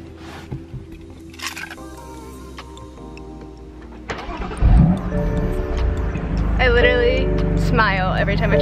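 A newly bought car is turned on: quiet cabin clicks and ticks give way to a low rumble as the engine catches, followed by a steady idle with higher electronic tones on top.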